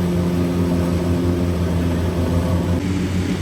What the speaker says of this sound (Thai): มาดูรถเกี่ยวข้าวครับ วันนี้อยู่กับคูบต้า DC 70ี Pro นะครับ